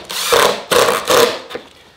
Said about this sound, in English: I'm gonna just throw one screw in the corner here.